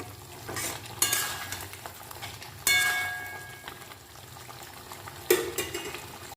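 Chicken gravy stirred in a pan, giving scraping spoon strokes over a low simmering bubble, with three louder clattering bursts spaced across the stretch and no voices.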